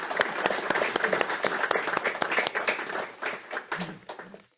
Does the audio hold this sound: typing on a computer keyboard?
no